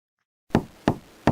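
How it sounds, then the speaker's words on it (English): Three sharp knocks on a door, evenly spaced and close, each a crisp rap following a moment of silence. "A knock at the door brought Midoriya Izuku from the circle's articles he was currently reading on the latest hero news"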